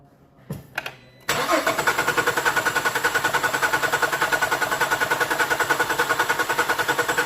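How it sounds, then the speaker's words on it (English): A 2008 Cadillac STS engine cranks over with a quick starter whir, then catches and settles into a loud, steady idle with an even pulsing rhythm, heard up close. "I'm going to crank the car."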